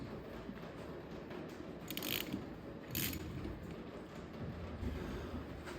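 A trailer mechanism part on a digger trailer is worked back and forth, giving a steady grinding, scraping mechanical noise with a couple of louder rasping strokes where it sticks.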